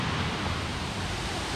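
Rushing water from a waterfall in Doi Phu Nang National Park makes a dense, even roar that fills the brief moment with no pauses and no voices.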